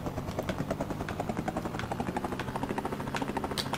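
A helicopter in the Amiga video game Rescue gives off a continuous, pulsing synthetic rotor chop at a fast steady rhythm, loud and alone throughout.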